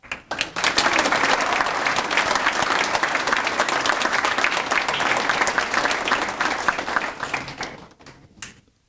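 An audience at a 2019 JC LISD Academy graduation ceremony applauds as a speaker comes to the stage, steady full clapping that holds for about eight seconds before tapering off, with no talk over it.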